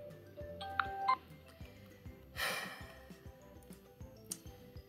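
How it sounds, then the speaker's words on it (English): A phone rings during a Minecraft Five Nights at Freddy's Sister Location roleplay: a short burst of electronic ringing tones stands out near the start over a busy background of game music and ticks, with a brief noisy swell later. "There goes my phone."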